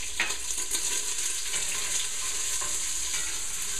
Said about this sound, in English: we're going to start out with some pancetta, which is like an Italian cured bacon. Get that going.